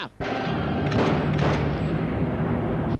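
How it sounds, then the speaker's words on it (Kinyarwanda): Gunfire erupts in a dubbed action film, a loud, sudden burst that swells into a sustained rumbling barrage of shots and booms with no pause. "Kirarabura kirekura amasasu."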